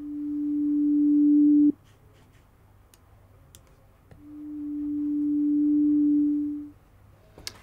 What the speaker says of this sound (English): The initial patch is a single, simple sine wave.